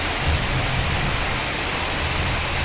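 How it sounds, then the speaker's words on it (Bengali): Heavy rain pours steadily, a dense continuous hiss with a low rumble underneath and no voices. "এখন কি জোরে বৃষ্টি এসছে, এই যে কি জোরে বৃষ্টি পড়ছে"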